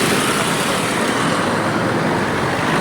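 Street traffic at a traffic light, a loud steady roar of passing cars and engines filling the whole moment.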